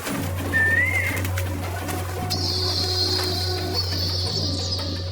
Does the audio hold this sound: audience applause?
no